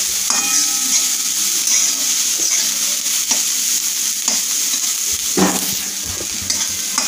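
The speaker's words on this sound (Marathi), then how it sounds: "याप्रमाणे मी त्याला छान सॉटे करून घेत आहे" Onions sautéing in oil for potato manchurian give a loud, steady close sizzle with occasional spatula scrapes and stirring knocks, no talking.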